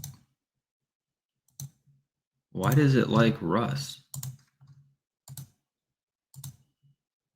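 A computer mouse clicking a few times amid live NFL fantasy lineup browsing, short sharp taps spaced out across the clip, with a burst of close talk in the middle.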